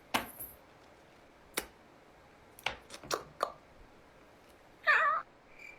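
A person imitates a cat's meow in a TikTok clip: a few scattered sharp clicks and taps, then one short, fairly loud nasal meow near the end, with no talking.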